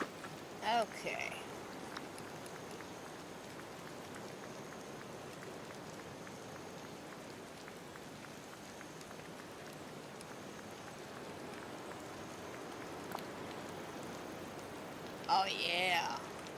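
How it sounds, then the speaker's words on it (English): Rain falls in the Disney Dreamlight Valley video game as a steady, even patter throughout, with a few short louder bursts near the start and end. "Rain."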